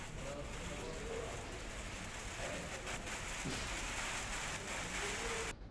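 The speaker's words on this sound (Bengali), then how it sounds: "সিলেটেও গুড়ি গুড়ি বৃষ্টি হয়" Light drizzle falls in Sylhet, Bangladesh, as a steady, soft, broadband hiss of rain that holds evenly throughout and then cuts off abruptly at the very end.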